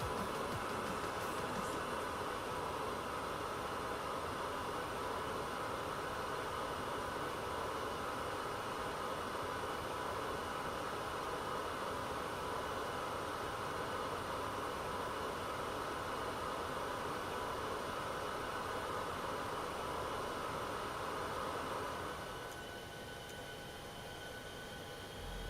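Boeing airliner engines starting up in a flight simulator game, a steady broad roaring whine with sustained tones that holds evenly for a long stretch before easing down near the end.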